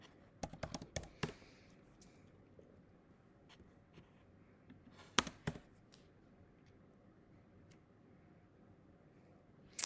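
Someone types on a computer keyboard, producing a quick burst of faint, close key clicks at the start, a second cluster a few seconds later, then scattered taps in a quiet room.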